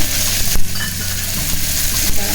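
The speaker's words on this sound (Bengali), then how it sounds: "এবার দিয়ে দিচ্ছি মুগ ডালটা ভাজা হবে" Mung dal fries in a pan with turmeric and five-spice tempering, giving a close, steady sizzle with spatula scrapes and a sharp clack of the utensil partway through.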